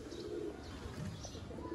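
Pigeons coo softly in a loft setup kept for pigeon-flying hobby games, low rolling calls repeating at a faint distance with a few small chirps and light flutters around them.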